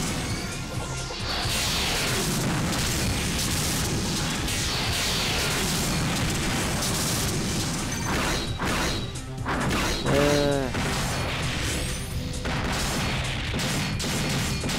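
Continuous loud crashing blasts and booms of beam cannons in the game Damascus Gear: Tokyo Shinsen pound away with barely a break, punctuated by a brief swooping electronic tone.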